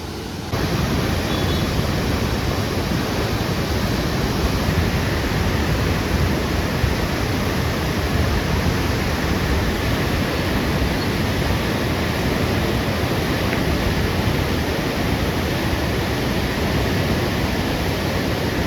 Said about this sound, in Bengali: কি পরিমাণের জল হয়েছে ওখানে গেটটা খুলে দিয়েছে তার জন্য এত জল